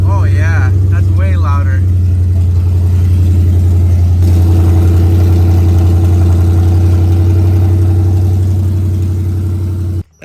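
Ford SVT Cobra with straight-piped Bassani off-road X-pipe exhaust, started and running loud with a deep rumbling idle, a voice talking briefly over the opening before the engine drones on steadily and cuts off.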